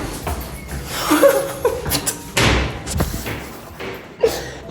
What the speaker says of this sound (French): Je savais pas que la porte allait claquer comme un attentat.